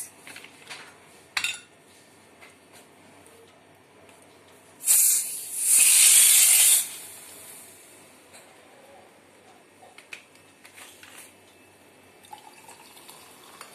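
Ice cubes are dropped into a glass of strawberry-crush mocktail with a short clatter, followed by a louder fizzing hiss, with a few faint clinks scattered around it.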